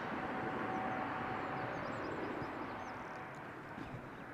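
An Airbus A320neo airliner passes at Amsterdam Schiphol Airport, a steady broad engine roar held at moderate level throughout, fading slightly toward the end, with faint bird chirps above it.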